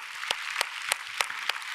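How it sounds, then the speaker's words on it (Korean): A church congregation at a Korean Sunday worship service claps together in a steady, unison rhythm, six sharp evenly spaced claps over a soft wash of background applause. "우리 하나님께 영광의 박수"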